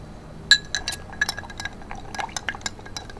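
Bar spoon stirring a Bulleit Rye cocktail in a glass, with several light clinks of ice against the glass amid a soft, steady swirl, close and alone.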